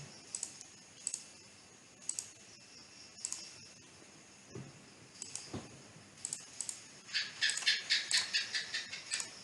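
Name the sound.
computer mouse clicking in design software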